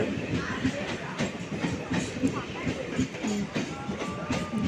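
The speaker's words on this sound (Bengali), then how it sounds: "অলরেডি আমাদের ট্রেন চলে এসছে" A train pulls into a station with rumbling, clattering wheels and scattered clanks, while people talk in the background and a horn-like tone sounds faintly.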